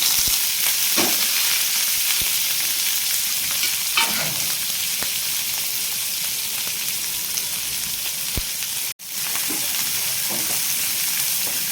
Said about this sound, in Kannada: ಎಣ್ಣೆ ಕಾದ್ಮೇಲೆ ಇದಕ್ಕೆ ಸ್ವಲ್ಪ ಜೀರಿಗೆ ಹಾಕೋತಿದ್ದೀನಿ ಹಾಗೆ ಹಸಿರು ಮೆಣಸಿನ್ಕಾಯಿ ಈರುಳ್ಳಿ ಕಟ್ ಮಾಡ್ಕೊಂಡಿದ್ಮೇಲೆ ಅದನ್ನು ಹಾಕೋತಿದ್ದೀನಿ